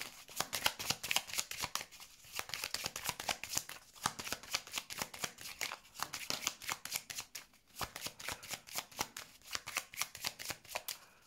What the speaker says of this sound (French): je vais mettre des cartes sur cette méfiance-là pour voir pourquoi il est méfiant.